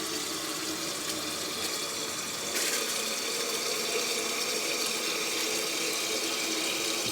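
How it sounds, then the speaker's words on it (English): Water runs from a tap into a kettle during cleaning, a continuous loud rushing stream close up that intensifies partway through and keeps flowing steadily to the end. "And then we're going to add more water and boil it twice."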